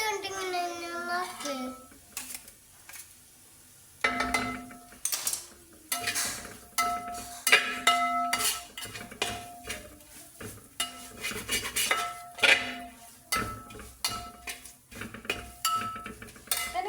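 A spoon scrapes and clinks against a metal pan as garam masala, coriander and turmeric powders are stirred in for Kerala-style pepper chicken. The scraping is loud and comes in irregular bursts, with a faint sizzle and a brief tonal sound at the start.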